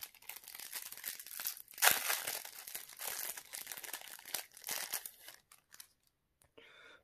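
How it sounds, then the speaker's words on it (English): Foil wrapper of a Yu-Gi-Oh! promo card pack being torn open, a close, crinkly rip with busy crackling bursts that fade out near the end. "I'm gonna open the promo pack first"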